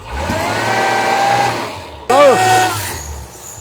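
A Land Rover Range Rover engine with a rattling noise under acceleration, checked in a repair shop, is revved loudly twice, each rev rising to a strained whine, with a brief dip between runs.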